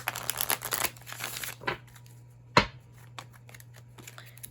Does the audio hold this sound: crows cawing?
no